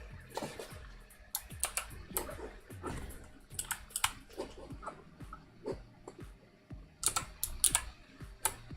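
Someone types on a computer keyboard at close range, with irregular bursts of sharp key clicks separated by short pauses, in a quiet room.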